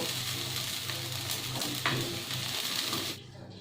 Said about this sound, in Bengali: দেখুন চালগুলো সাদা সাদা হয়ে গেছে, এর মানে আমার চালগুলো ভাজা কমপ্লিট।